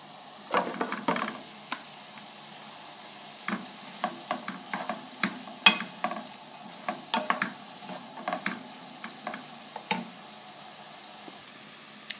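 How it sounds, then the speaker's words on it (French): Sliced onions cook in melted butter in a pan or pot, giving a soft background sizzle. Frequent light spatula taps and scrapes come in irregular clusters, quiet and close. "Dans une poêle ou un faitout, je commence par faire fondre le beurre et je vais caraméliser mes oignons émincés"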